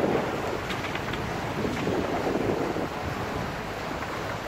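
A sailboat under sail at sea, with steady wind rushing over the microphone and waves washing against the hull as a continuous, fairly loud wash of noise.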